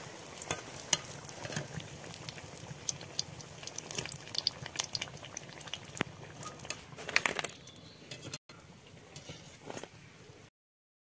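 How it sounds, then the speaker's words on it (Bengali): A potato snack fries in oil with a low, continuous crackling sizzle and scattered clicks from a utensil, then abruptly cuts off near the end. "ভাজা হয়ে গেছে, তুলে নেব।"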